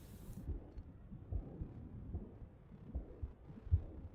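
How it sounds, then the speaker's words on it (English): A low, muffled heartbeat effect in the video game Rain World, soft thuds pulsing roughly once a second under a dull rumbling background. "I can't say I'm a fan of the heartbeat sound."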